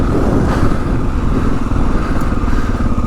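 A 2022 Kawasaki KLR 650 dual sport motorcycle rides along a desert trail at low RPM, its engine a steady, close, loud thrum with constant low rumble and clatter, no voices.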